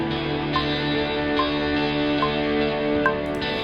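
Sustained electric guitar chords ring out, washed in heavy reverb, with a few strums accenting the wash at regular intervals.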